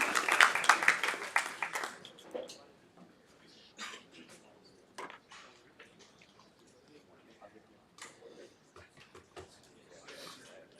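A crowd at a hackathon closing ceremony breaks into loud applause for about two seconds. It fades quickly, and a presenter goes on talking over faint scattered claps.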